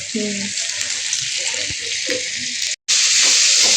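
Spices fry in oil for Bengali dal, a steady loud hiss with a faint voice near the start, a brief dropout, then the sizzle resumes stronger.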